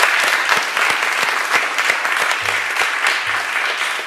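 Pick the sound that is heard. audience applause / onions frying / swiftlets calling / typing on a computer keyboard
audience applause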